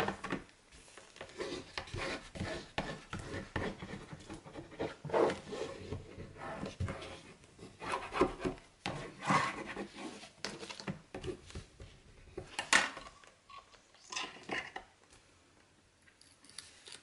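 Folded paper for a handmade album cover being pressed flat and creased, soft repeated rubbing and scraping strokes at close range, quiet and uneven with no talking.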